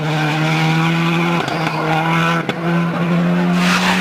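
Rally car spinning off a tarmac stage onto the grass at Rallye Deutschland 2007, a loud sustained engine note with shifting pitch, a brief dip and sharp break as it leaves the road, then the engine roaring again, no voices.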